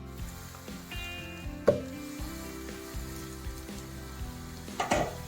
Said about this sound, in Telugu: ఇప్పుడు ఎంతవరకు వేగాయి చూద్దాం ఈ ఉల్లిపాయలు